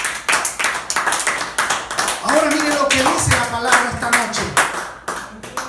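Church congregation clapping in a fast, steady rhythm throughout, close and fairly loud, while a preacher speaks over it.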